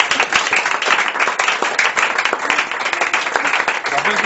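A church congregation applauds at a French-language worship and sharing service, with dense, sustained clapping from many hands filling the room and a voice faintly underneath.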